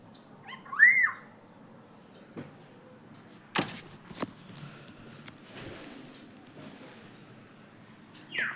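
A small yellow bird calls in a quiet outdoor setting, one clear rising-falling whistled note early on, followed by faint scattered clicks and rustles.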